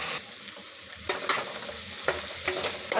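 Cauliflower and carrot pieces for a veg pulao half-fry in a pan with a close, steady sizzle, broken by a few brief scraping stirs.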